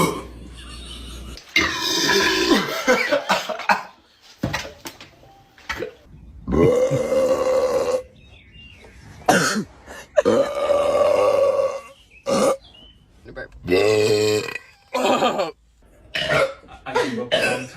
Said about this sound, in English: some of these people burping are women,